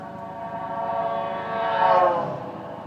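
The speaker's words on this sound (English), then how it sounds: "There's an ambulance." An ambulance siren passes by as a steady, tonal, harmonic wail that swells louder toward the middle and shifts in pitch as it goes past, with nothing else competing.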